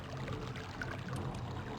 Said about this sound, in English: So there's the water sound effect.